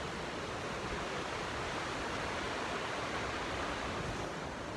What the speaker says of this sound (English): There's a beautiful river.